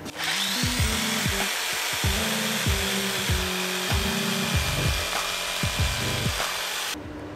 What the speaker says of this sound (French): maintenant avec la scie sauteuse, je vais venir découper ma forme ici